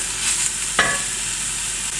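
Bell pepper sizzles softly in a frying pan, a steady low hiss with a single sharp stir or clink near the start.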